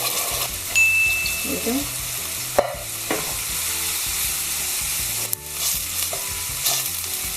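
Chopped tomatoes hitting a hot pan for a cheesy chicken spaghetti bake, a loud steady sizzle with stirring scrapes and clatters, over a low humming background, with a brief spoken line.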